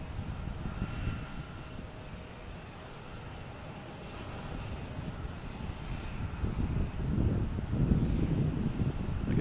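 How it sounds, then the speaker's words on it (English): A JetBlue Embraer 190 jet departs for Savannah from Logan Airport, its engine roar a steady broadband rumble that builds louder toward the end, with some wind buffeting the microphone. "Heading to Savannah and Embraer 190"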